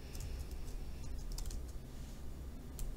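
Keys clatter steadily on a computer keyboard as a search term is typed, a close, continuous run of small clicks with no talking.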